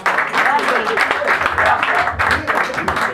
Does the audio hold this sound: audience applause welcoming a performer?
yes